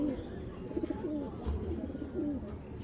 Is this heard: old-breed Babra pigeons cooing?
yes